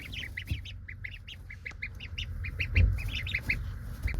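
Indian runner ducklings peep and quack in a steady stream of short, bright calls, close by over low background rumble.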